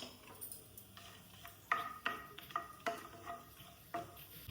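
Cumin and dried red chillies tempering in hot coconut oil, a soft sizzle under repeated sharp clinks of a spoon stirring against the pan, with no talk.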